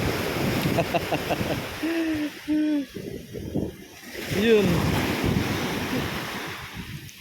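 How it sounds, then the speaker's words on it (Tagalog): Ocean waves wash continuously onto Jumeirah Beach in Dubai under steady wind noise, with someone talking over the surf and a few owl-like hoots in the middle. "Pakinggan nyo na lang mga ka-road trip yung ano, yung sounds ng alon."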